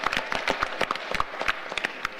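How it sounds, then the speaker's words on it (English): Applause from the audience at a student union VP Welfare debate, a quick sparse patter of claps with irregular rhythm, moderately loud and fairly close, with no talking over it. "Give a round of applause, please."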